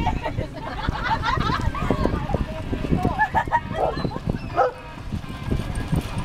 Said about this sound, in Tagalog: Ay, aso. Help, puppy!